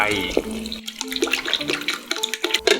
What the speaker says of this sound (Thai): เทน้ำลงไป